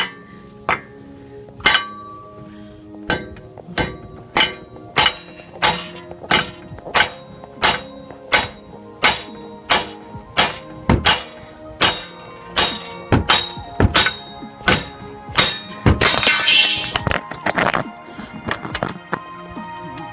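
Sharp metallic hammer blows ring out one after another in a steady rhythm, about one per second, loud and close, with a brief scraping rush near the end, striking a seized front wheel bearing on a 2004-2009 Nissan Quest van.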